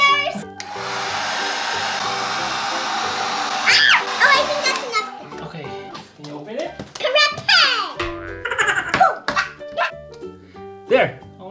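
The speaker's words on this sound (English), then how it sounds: "we're gonna use the hair dryer for something. But cover your ears because it's loud." A household hair dryer blows loudly and steadily for several seconds, then cuts off, followed by children and an adult talking and squealing excitedly while playing with toys.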